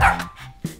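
Dog giving two short, close barks, one at the start and another near the end, with a faint tonal sound between them.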